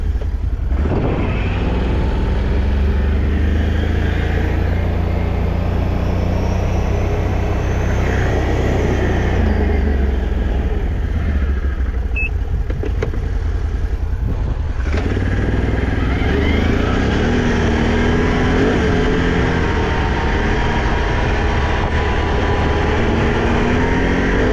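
A vehicle fitted with a newly installed SLG exhaust pipe, revving loudly and close by in a driveway, its engine note rising and falling continuously throughout.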